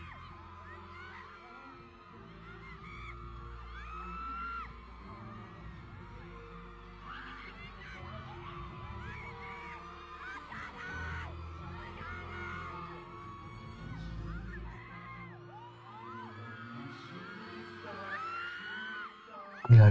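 A large audience screams and yells continuously through a live singing performance, the shrill crowd noise sustained and dense for the whole stretch with occasional whoops rising above it and a low rumble underneath.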